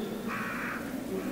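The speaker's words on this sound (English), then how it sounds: "I don't want to get pecked to death by crows." Crows caw in the Resident Evil 2 video game, a single harsh call rising over a steady low ambient drone, fairly close and with no talk.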